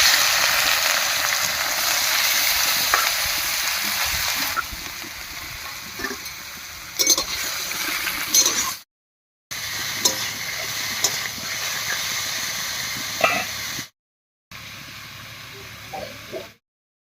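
Mushrooms fry in mustard oil in a wok, a steady sizzling hiss with stirring clatter, broken by short silent gaps.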